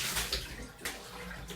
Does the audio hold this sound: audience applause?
no